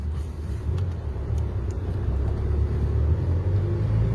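A car drives along a road after an engine temperature check, with a steady low engine rumble and road noise that stays continuous and fairly close throughout, with no talk.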